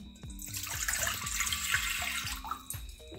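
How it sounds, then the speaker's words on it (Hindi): Water is poured into a cooking pan in a home kitchen, ready for steaming, with a continuous splashing hiss over faint, rhythmic low thumps. "पैन में हम पानी डाल देंगे।"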